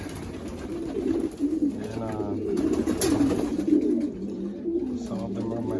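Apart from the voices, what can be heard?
pigeons cooing in a loft during bath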